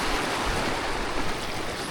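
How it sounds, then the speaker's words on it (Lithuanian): Rushing water on the Lėvuo river, a steady broadband wash of waves splashing close by with no voices over it. "Žiūrėkit, kokios bangos."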